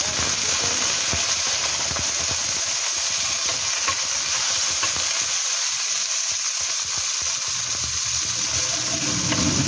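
Squash sautéing with shrimp, onion and garlic in a pan for Filipino ginisang kalabasa, giving a loud, steady sizzle and crackle that runs the whole time with stirring scrapes and no talking.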